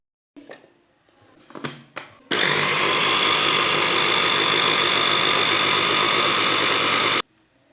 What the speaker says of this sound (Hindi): अंडों को ग्राइंड कर लेंगे।